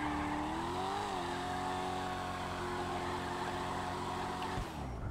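A racing car in GTA Online drives with a loud, steady engine drone whose pitch rises and shifts briefly before holding level, then drops near the end.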